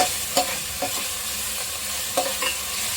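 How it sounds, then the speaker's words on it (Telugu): Ginger paste frying in a pan for chicken curry gives a steady broadband sizzle, with a few short stirring scrapes punctuating it near and alone. "ఇందులోనే నేను అల్లం పేస్ట్ వేసుకుంటున్నాను"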